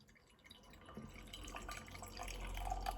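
Brass Castle Elvis Impersonator porter, a banana, facon and peanut craft beer, pouring into a glass: a soft, steady liquid trickle with faint drips that grows gradually fuller and louder toward the end.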